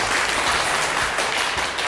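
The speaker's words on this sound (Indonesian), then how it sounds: "Tepuk tangan untuk Anda semua yang sudah hadir di sini." Loud, dense applause from a large crowd at an MC school event in Surabaya, steady clapping throughout with no pauses.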